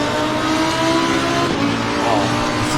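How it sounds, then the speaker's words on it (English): A race car engine drones at sustained high revs in Assetto Corsa Competizione, loud and steady throughout, with a voice talking over the top. "this is such a cool car"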